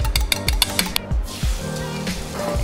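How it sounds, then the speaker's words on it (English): Eggs go into a hot nonstick skillet for teriyaki salmon fried rice, with a few sharp taps and clinks of a utensil against the pan followed by a soft, steady sizzle close up. "We're gonna add in some eggs."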